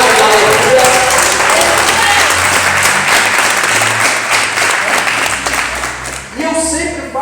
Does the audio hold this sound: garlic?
no